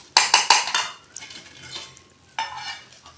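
A spoon scrapes and clinks against plates and a serving dish while food is dished out at home: a quick run of three or four sharp scoops, a softer pause, then one more scrape near the end.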